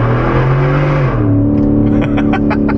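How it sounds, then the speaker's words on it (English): A supercharged truck engine revs hard through the exhaust, a loud, rising roar that swells and shifts pitch as the throttle opens, with supercharger whine layered over the deep exhaust note. "When this truck here moves out of the way, I'll step on it a little bit and you'll probably hear what I'm talking about."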